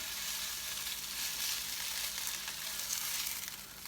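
A cheese patty sizzles steadily in a hot pan, a dense, continuous frying hiss at close range with no voices over it.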